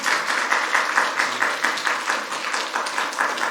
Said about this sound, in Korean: 그럼 큰 박수로 맞도록 하겠습니다